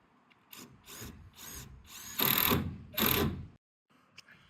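Power drill driving screws into roof timber, several bursts of whirring of rising length and loudness, the last two strongest, separated by short pauses, close by with no talk.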